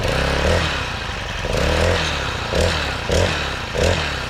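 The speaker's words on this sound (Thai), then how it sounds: "พอเครื่องยนต์เบาอย่างนี้ได้แล้วเราก็ลองเร่งคันเร่งดูได้" A small Honda GX50 engine idles with a low rattling putter, and its throttle is revved in four or five short bursts that swell and fall back, close and loud, with no talking.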